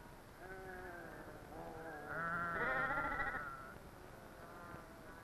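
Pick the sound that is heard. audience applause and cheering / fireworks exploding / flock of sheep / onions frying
flock of sheep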